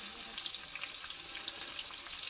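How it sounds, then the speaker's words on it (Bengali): Potatoes and taro frying together in hot oil, a steady close sizzling hiss dotted with small crackles and pops throughout, with no talking. "আলু আর কচু একই তেলে ভেজে নেব।"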